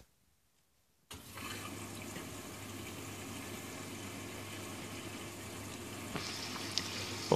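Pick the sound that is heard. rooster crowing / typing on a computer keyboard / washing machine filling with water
washing machine filling with water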